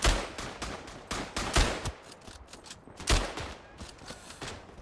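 Rapid rifle gunfire in the World War I trench shooter game Verdun, a string of sharp cracks with irregular spacing, some shots louder and closer than others, with no talking.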